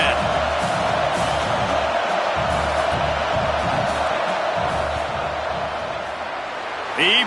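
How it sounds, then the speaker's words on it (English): A football stadium crowd roars during a field goal attempt, a loud, sustained mass of noise that eases slightly before a sharp burst at the end. "This crowd trying to do its part to get inside the kicker's head."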